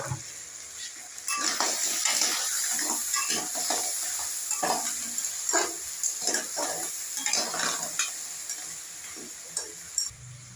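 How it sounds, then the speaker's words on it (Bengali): Large crab legs fry in hot oil in a pan, giving a steady sizzle with repeated stirring clatters and utensil scrapes throughout. "আমাদের কাঁকড়ার যে দাঁড়াগুলো দেখতে পাচ্ছেন ভাজা হয়ে গেছে"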